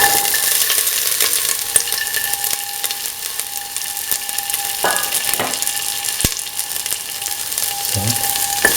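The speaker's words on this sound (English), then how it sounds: "Now put in the garlic" Garlic and shallots sizzle in a hot pan with oil, a steady loud frying hiss with occasional clinks and scrapes of a spoon stirring, close up and without talking.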